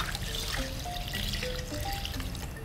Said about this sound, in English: pour a little water over it.